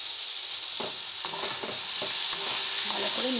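Spices and ground pea dal paste stirred in a pan, a constant bright hiss of frying beneath a series of scraping strokes from the spoon, close and fairly loud.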